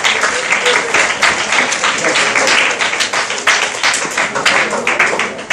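A classroom audience claps loudly and steadily for a student, a dense, close round of applause sustained throughout with possible faint voices beneath.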